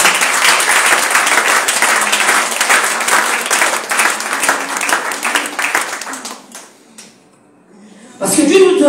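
A church congregation applauding during a sermon, loud sustained clapping from many hands that fades out, followed by a voice starting up at the end.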